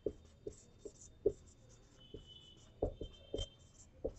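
A pen or pencil writing notes by hand on paper, giving a string of soft, close taps and short scratches at an uneven pace in a quiet room, with no talking.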